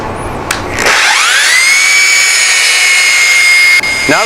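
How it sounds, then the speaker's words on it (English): A power sander works a tapered wooden table leg, its motor spinning up into a loud, steady high whine that holds for about three seconds before slowing down near the end. No one speaks. "when you're moving your sander back and forth that you're hitting everything just right"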